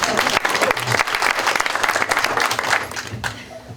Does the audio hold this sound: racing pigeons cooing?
no